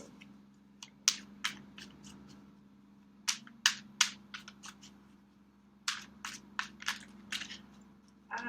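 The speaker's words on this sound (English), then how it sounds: "So shuffling them is a little difficult." Slippery tarot cards being shuffled by hand, giving irregular bursts of sharp snapping riffles and flicks close by over a steady low hum, with short pauses between the clusters.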